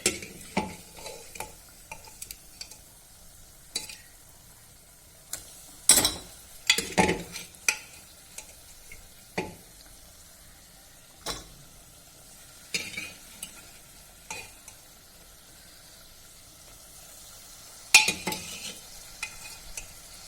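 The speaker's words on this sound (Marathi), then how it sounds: "नंतर यामध्ये जे आपण मटण शिजवून घेतलं आहे ते टाकायचं" Cooked mutton being stirred into masala in a pan for mutton curry, with scattered scraping and clattering spoon strokes over a low, steady sizzle; louder bursts come near six to eight seconds and again near eighteen seconds.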